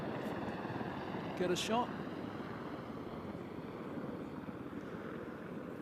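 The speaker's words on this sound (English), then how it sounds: "More helicopter activity. I'm sensing an Apache attack helicopter in this case." Apache attack helicopters pass overhead as a steady, distant rotor drone under outdoor background noise, with a person briefly speaking nearby.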